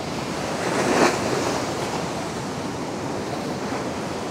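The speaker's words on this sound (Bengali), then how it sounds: "একদম উত্তাল সমুদ্র এখন।" Rough sea surf at Shankarpur beach roars in a steady broad wash, with one wave surging louder near the start before settling into a constant churning rush mixed with wind buffeting.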